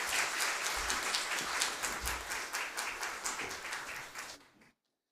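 Church congregation applauding in welcome as a pastor comes forward, a dense steady crowd clapping with faint cheers, near and full, fading out at the end into silence.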